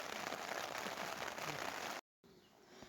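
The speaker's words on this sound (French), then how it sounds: "ça fait au moins 10 minutes qu'il pleut" Rain falls outside a tent, a dense steady patter that cuts off abruptly into a moment of silence, then returns much fainter and duller.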